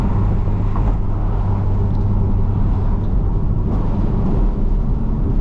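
Base Porsche 718 Boxster flat-four engine heard from inside while driving, a steady loud low rumble with road noise and no talking.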